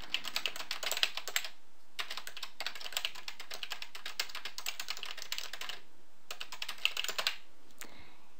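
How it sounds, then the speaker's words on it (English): Rapid, steady keystrokes on a computer keyboard while an email signature is entered in Microsoft Outlook, coming in dense bursts with a few short pauses, close and fairly quiet, no voices. "you can type whatever you want in the email box"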